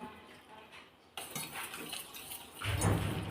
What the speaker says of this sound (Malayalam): ഇതൊഴിച്ച് നമ്മളൊന്ന് മിക്സ് ചെയ്യുകയാണ്.